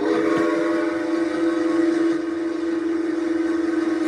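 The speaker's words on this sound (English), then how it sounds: "Oh, you hear that train? I hear that train coming around the bend." A long train's whistle sounds steadily from a distance as it comes around a bend, a sustained tonal blast that fills the whole stretch over a low rumble.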